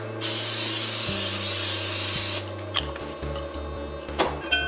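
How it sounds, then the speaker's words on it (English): A loud continuous hiss of cooking spray into a pan before scrambling eggs, about two seconds, followed by faint kitchen clatter. "I'm going to go ahead and spray just a little bit more."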